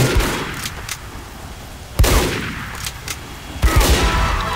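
Gunfire in Team Fortress 2 during a one-on-one sniper match, sharp loud bursts at about zero, two and three and a half seconds, each trailing off into a rumbling decay, with no talking.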